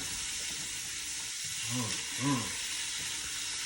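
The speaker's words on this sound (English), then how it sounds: "I'll stir this right on up." Fat and a collard greens base sizzle steadily in a pot, a constant hiss with a couple of soft stirring scrapes near the middle.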